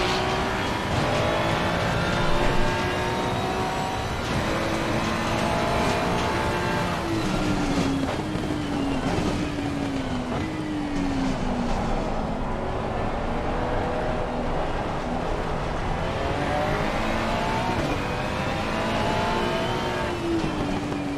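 Race car engines from the racing video game Assetto Corsa Competizione drone steadily throughout, with pitch rising and falling through gear shifts as cars run close together, loud and continuous with no talking.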